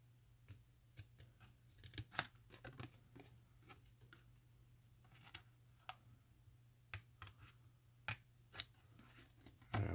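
Small scissors snip a decal from a sheet for a Gundam model kit, making quiet, close, irregular clicks and crisp cuts spread across the stretch, with a faint steady hum beneath.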